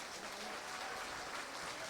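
Sustained applause from an audience after cultural performers finish their act, a dense, even wash of clapping holding steady for the whole stretch with no voices standing out.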